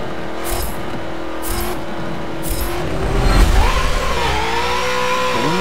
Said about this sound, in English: I believe it's a naturally aspirated V8